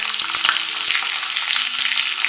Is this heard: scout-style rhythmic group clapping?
no